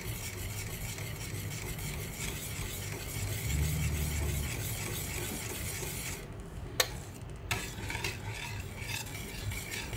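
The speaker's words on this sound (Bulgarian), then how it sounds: "Хубаво бъркам. Да се сгъсти." A spoon stirs milk and rice pudding in a pot as it thickens on the stove, a steady scraping swirl with a faint bubbling undertone and a couple of sharp clinks near the end.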